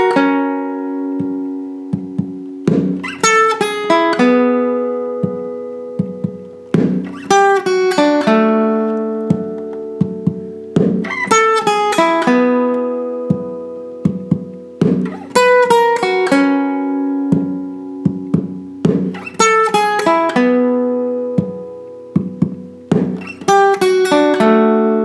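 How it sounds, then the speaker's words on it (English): A guitar plays a song's solo slowly, in repeated plucked phrases of ringing notes separated by short pauses, close and clear, with no voice. "The guitar solo sounds like this."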